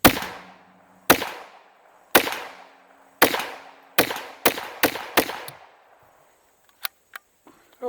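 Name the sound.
H&K PSP 9mm pistol shots into an oil drum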